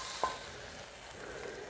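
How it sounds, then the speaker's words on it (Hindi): Butter tadka for dhaba-style dal sizzling quietly in a pan, a soft steady frying hiss with one brief clink near the start, no voices. "ये देखिए सिंपल सा, बहुत सिंपल सा तड़का, बहुत मज़ेदार सा मक्खन का तड़का।"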